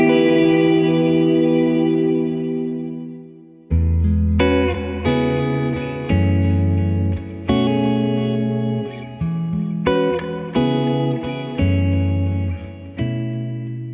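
An Encounter ambient delay and reverb pedal swells under guitar notes: a long decaying wash first, then repeated struck chords that bloom into sustained shimmering reverb, each new attack rising over the fading tail, with no one talking.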